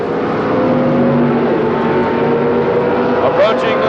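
Super Stock drag race cars at the 1978 Gatornationals hold a loud, steady engine roar throughout, with a commentator talking over the race.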